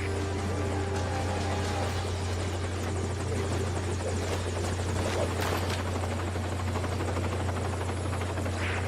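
A helicopter in the video game Metal Gear makes a steady rotor thrum and engine drone that fill the scene continuously, loud and close, with a low hum beneath.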